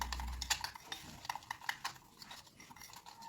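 Ghee and powdered sugar are beaten in a bowl, giving a quiet, irregular series of scraping clicks and light clinks of the whisk or spoon against the sides, with no talking.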